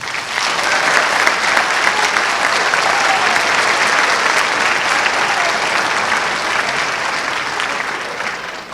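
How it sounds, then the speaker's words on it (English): A concert audience applauds band students at a winter band concert, sustained full-room clapping held at an even loudness throughout. "So give another round of applause for them."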